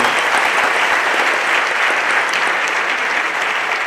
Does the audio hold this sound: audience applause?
yes